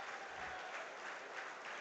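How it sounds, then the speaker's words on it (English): Distant, faint applause from football fans at Fulham's Craven Cottage stadium during a friendly match, a soft steady wash of crowd clapping with no voices over it. "Good round of applause from the fans."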